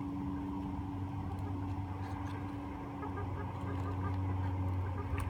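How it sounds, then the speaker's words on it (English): Birds cluck and honk over a steady low hum, with a few short calls scattered through the background. "I do hear chickens"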